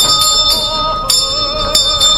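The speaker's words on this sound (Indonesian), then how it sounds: "Mendengar bel honeymoon berbunyi" A small bell in a horror film rings repeatedly at an uneven pace, each strike bright and metallic, its clear tone sustaining between hits.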